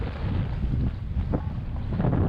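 Gusty wind roars steadily across the open water at Dunedin Causeway on a stormy, gloomy day, buffeting the microphone with a constant low rumble and no voices.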